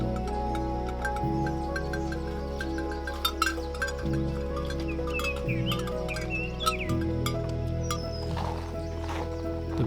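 Wild birds chirping in scattered bursts around a feeder on a snowy farm, fairly faint over a steady low engine drone.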